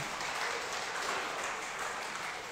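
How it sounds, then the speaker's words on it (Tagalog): Congregation at a worship service clapping together in sustained, dense applause that holds steady at an even level from start to finish. "Isa nga pong malakas na palakpak para sa ating Panginoon."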